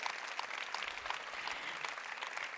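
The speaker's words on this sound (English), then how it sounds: "Give them a warm round of applause to the virtual viewers" Steady applause from a conference audience at a live opening ceremony keynote, broad and sustained clapping throughout without speech.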